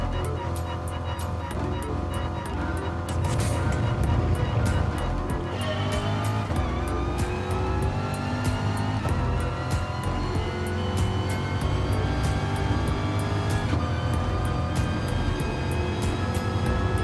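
Race car engine in GT Sport during practice at Maggiore, a small two-stroke gasoline engine with a buzzy lawnmower-like drone, holding steady and loud with rising and falling pitch as the car runs through gears, no talk.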